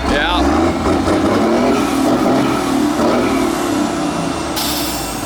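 Diesel truck with dual tall 6-inch stacks revving hard, a loud, sustained engine roar with rising pitch swings, close up, with voices talking over it.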